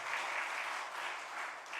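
A church congregation applauds at a Sunday morning worship service after the choir's hymn, producing dense, steady clapping throughout that is sustained and fairly loud, with no voices over it.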